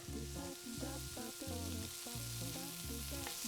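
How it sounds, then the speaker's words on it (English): Bacon and onions sizzle in a pan in a home kitchen, a continuous bubbling crackle heard faintly and evenly throughout with no voices. "Once it's sizzling, got lots of bubbles and foaming, add the onions, because they'll take the longest."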